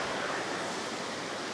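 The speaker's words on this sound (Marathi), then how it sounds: "पाण्याला प्रेशर बघा, प्रेशर बघा पाण्याला" Rushing water beside a temple at Kundamala, a dense, continuous roar of fast-flowing water, loud and unbroken throughout.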